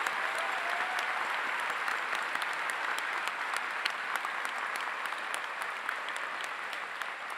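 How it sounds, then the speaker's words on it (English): Sustained applause from the audience at a School of Medicine commencement ceremony, dense and steady throughout with no pauses, filling a large hall. "Will the audience please join me in applauding our School of Medicine faculty and administration?"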